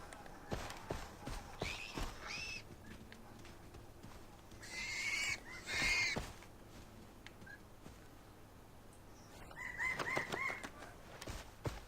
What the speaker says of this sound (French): Ça c'est des oiseaux.